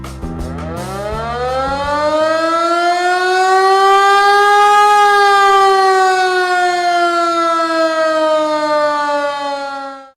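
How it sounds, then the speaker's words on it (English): The siren of a restored antique Michigan fire truck winds up from a low rumble into a loud, sustained mechanical wail, holds steady, then cuts off sharply at the end. "The lights and siren on this truck are operational as well."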